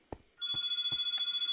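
Telephone ringing in a room, a sustained trilling electronic ring starting after a few soft knocks, fairly faint and steady.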